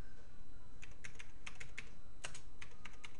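Someone types a username on a computer keyboard, with a short run of crisp, close key clicks in uneven bursts over a steady low background hum. No one speaks.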